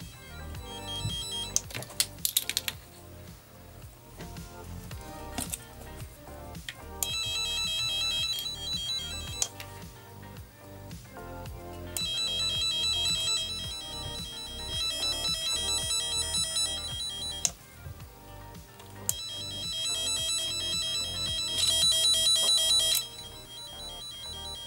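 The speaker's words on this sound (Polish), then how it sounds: "Im bliżej żyły, tym intensywniejszy dźwięk i miganie diody." An ANENG M469A cable tracer detector gives off an electronic warbling tone that rises and falls, growing louder and denser in bursts as the probe moves near a wire, with gaps and clicks between passes.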